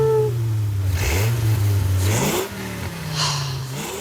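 A Dodge Viper's engine revs close by. It gives a deep, growling rumble that rises and falls through a couple of throttle blips and then settles into a lower burble.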